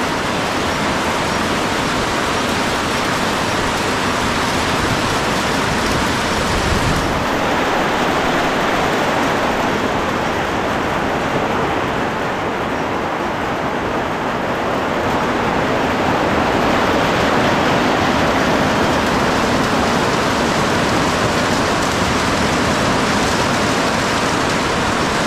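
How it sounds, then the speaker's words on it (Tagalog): A sudden heavy rain shower on a farm, falling as a steady, loud, dense hiss that continues unbroken throughout with no voices. "Bigla lang umulan"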